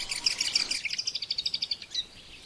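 A striated heron (Butorides striata) gives a rapid run of high, thin chirping calls, ending in a steady pulsing series of about a dozen notes that fades out, with no voices.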